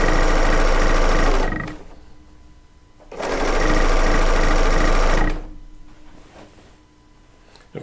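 A serger sewing machine stitches quilt fabric in two loud, steady bursts of fast mechanical whirring, each lasting a couple of seconds, with a short pause between them and a quiet stretch at the end.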